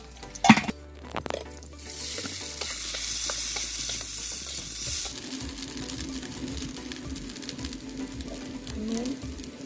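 Marinated rice tipped into a pan with fried raisins for basanti pulao, after a sharp clatter, settles into a steady close sizzle and frying hiss with stirring scrapes throughout.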